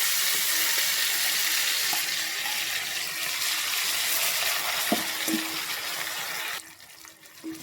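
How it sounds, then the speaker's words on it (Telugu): Steady, close hiss of a ground spice paste for paneer butter masala frying in hot oil, with a few faint clinks, easing off near the end. "ఇది మంచి పచ్చిదనం పోయేదాకా ఫ్రై కావాలి."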